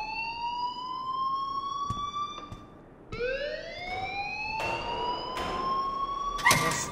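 A rising, wailing electronic alarm from the game Life Is Strange sounds continuously in repeated sweeping cycles, loud and close, with faint clicks and sharp bursts breaking through it and no speech.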